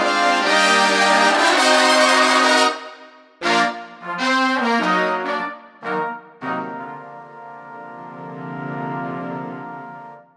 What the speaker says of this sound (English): This is the sound of the big band the way we designed it,